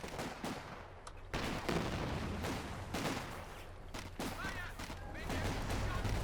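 Rapid, dense bursts of small-arms and machine-gun fire crackle through a Company of Heroes 2 battle, with volleys overlapping almost continuously at a loud, close level.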